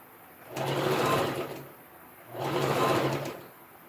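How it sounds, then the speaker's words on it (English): A sewing machine stitches a dress seam at half an inch in two close, steady bursts of rapid whirring, each about a second long, with a short pause between them. "I'm sewing at 1/2 inch."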